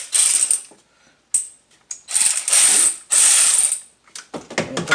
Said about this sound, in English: We're going to take our little ratchet.